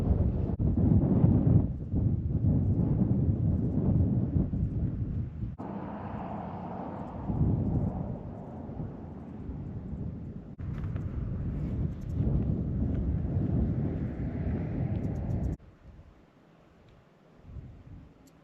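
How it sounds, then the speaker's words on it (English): Strong wind buffets the microphone outdoors in the Arizona desert near Quartzsite, a loud, steady low rumble with gusty swells that drops to a quieter hush near the end. "Hopefully this wind stops."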